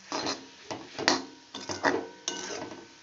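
Bathua greens being stirred in a cooking pan, giving a series of soft scraping, rustling strokes at an uneven rhythm, close and moderately quiet with no talking.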